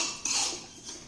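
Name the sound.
stirring semolina in a pan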